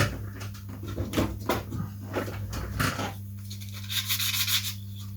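Short rasping strokes of sanding a wooden part of a Fokker Triplane model, quick and rhythmic, close up, then a brief pause and a few lighter rubs.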